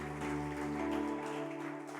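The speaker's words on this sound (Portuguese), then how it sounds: "Demos uma salva de palmas ao Senhor" A church congregation claps steadily through a worship service, the dense applause sustained at an even level under a held musical tone.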